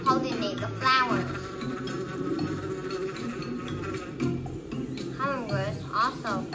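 Bees buzz while pollinating flowers, a steady insect drone running through the whole stretch beneath voices and other busy background sound.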